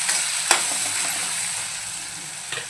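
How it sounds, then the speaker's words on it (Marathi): Green tomato chutney sizzles steadily in a pan, a constant bright frying hiss broken by a sharp utensil scrape near the start and another near the end, with no voices. "एकदा आपण फिरवून घेऊया।"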